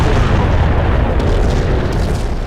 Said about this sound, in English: There's never a hit to the frame rate, except when it's intentional during those iconic Treasure slow motion super explosions